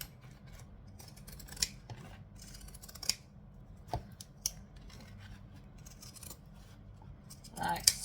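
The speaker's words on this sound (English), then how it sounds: "So I'm going to take some zigzag scissors." Zigzag scissors cutting close along a curve, with a handful of crisp, separate snips spaced through a quiet room.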